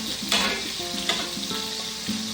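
Chicken pieces searing in a pot for a one-pot stew, with a constant close sizzle and a few scraping stirs, and a tonal hum running underneath, with no voices.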